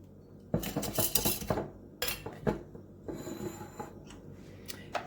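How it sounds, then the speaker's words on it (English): A whisk clinks and scrapes against a bowl while baking powder and salt are mixed into dry ingredients for blueberry scones, in quick irregular bursts with brief pauses, close and fairly quiet. "We're going to whisk this together and set it to the side."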